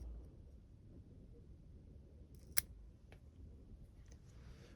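A single crisp scissor snip cuts a stem while a variegated Portulacaria afra is being pruned, with a fainter click after it over quiet room hum.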